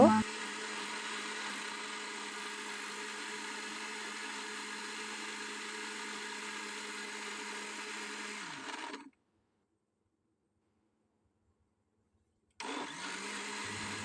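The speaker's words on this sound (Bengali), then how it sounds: "এখন ব্লেন্ডারে ভালো করে ব্লেন্ড করে নিব" An electric blender whirs loudly and steadily as it blends raw mango sherbet with water, salt and green chilies, then cuts off into silence for a few seconds before starting up again.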